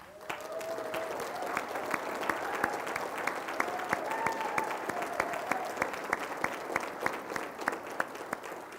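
Steady applause from a seated crowd at the Douglas County State of the County 2023 event, sustained clapping that fills the room with sharp individual claps standing out throughout.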